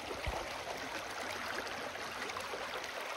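A creek with a cobble bottom flowing steadily, a faint, even broadband rush of water close by with no pauses or voices.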